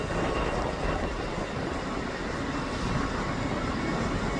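A Class 156 diesel multiple unit rolls into Stockport station with a loud, broad, steady rumble that stays near and continuous throughout, no voices.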